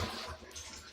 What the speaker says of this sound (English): We'll give it a test flush.